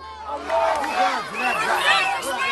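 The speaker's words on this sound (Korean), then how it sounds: "거리로 쏟아져 나온 가자지구 주민들이 환호성을 지릅니다." Gaza residents pour into the streets cheering, a loud crowd of overlapping voices with wavering shouts and ululating cries rising and falling, close and continuous.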